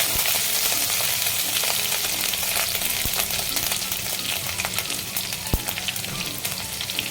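Chopped ginger, garlic and green chilli frying in a pan, a loud, dense, steady sizzle with occasional sharp clinks of a utensil against the pan.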